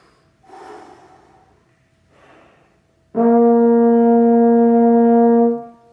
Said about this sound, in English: You are welcome to take extra preparatory breaths.